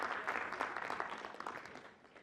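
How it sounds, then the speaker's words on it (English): An audience at a school leaders' conference at IIT Delhi applauds a guest speaker, a dense, fairly faint clatter of many hands that thins out toward the end. "Please clap for that."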